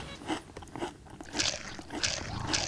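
Kettle-cooked BBQ potato chips crunch as they are bitten and chewed up close, in a run of sharp, crackly bites with no talking.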